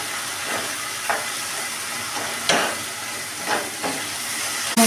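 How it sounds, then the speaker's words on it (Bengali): A spice paste with ginger paste sautés in oil, making a steady soft sizzle and hiss with several brief scraping stirs that rise and fade throughout. "এবার এর মধ্যে খানিকটা আদা বাটা দিয়ে দেবো, দিয়ে মশলাটাকে খানিকক্ষণ কষতে থাকবে যতক্ষণ না তেল ছেড়ে বেরোয়"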